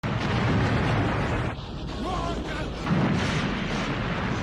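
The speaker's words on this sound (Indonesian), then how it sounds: "dan bom itu akhirnya meledak." A bomb detonates in a Japanese kaiju monster film, a loud sustained broadband roar with a rumbling low end, briefly dipping then swelling again under dramatic scoring.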